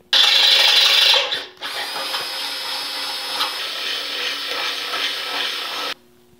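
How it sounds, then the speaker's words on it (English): A power drill fitted with a 25/64 drill bit enlarges bolt holes in a car frame, starting with a loud high whine, briefly stopping, then grinding steadily through the metal up close before it shuts off. "So what I'm gonna do is over drill the holes with a 25/64 drill bit."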